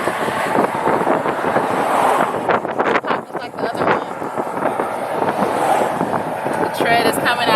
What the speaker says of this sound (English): It's windy up here, so I don't know if y'all can hear us